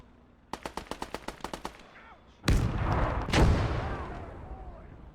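In the WWII game Gates of Hell: Ostfront, a rapid burst of about ten machine-gun shots rattles off, then two heavy booms follow with rumbling echoes, fitting a LeIG infantry gun firing amid the battle.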